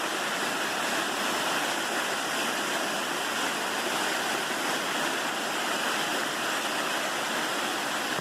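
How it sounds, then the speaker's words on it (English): A cascading waterfall on the Appalachian Trail near Virginia Route 615 roars steadily and densely throughout, close and constant with broadband rushing water and no voices. "Oh, look at the cascading falls."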